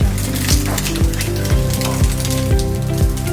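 An egg frying in a hot pan, with a loud, steady sizzle close by and a repeating rhythmic scraping or tapping roughly every half second, with no voices.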